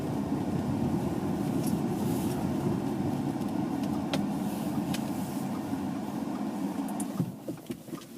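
Steady low road rumble and engine drone from inside a car driving toward a car park on a sunny day, close and continuous, with a few faint clicks near the end and no talking.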